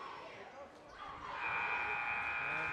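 End-of-game buzzer at a girls high school basketball game, a sustained loud horn tone starting about midway and holding to the end over crowd noise and a commentator's voice.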